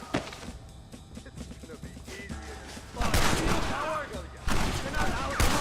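Gunfire during a battle at a gate in the western video game Red Dead Redemption, lighter shots early on, then loud bursts and rolling volleys of rifle fire in the latter half, with shouted voices mixed in.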